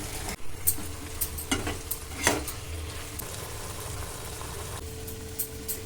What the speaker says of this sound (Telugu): ఫ్రై చేసుకున్న చికెన్ ముక్కలు వేసుకోవాలి. మొత్తం అంతా మంచిగా కలిసేలా కలుపుకోవాలి.